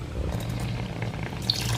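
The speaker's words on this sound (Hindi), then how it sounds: "मैं तकरीबन 2 कप पानी ऐड करता हूँ।" About two cups of water poured into a pot of fried masoor lentil dal, a low gurgling rush that ends with a brief splash and sizzle, heard alone.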